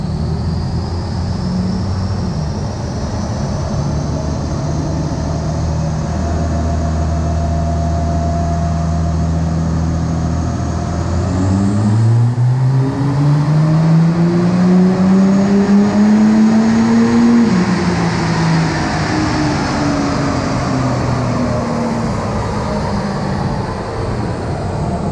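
An Audi A5 3.0 TDI quattro diesel, turbocharged and tuned, revs hard on a four-wheel-drive dyno, its loud engine note climbing steadily through the gears with a whining rise before easing off near the end, no talk over it.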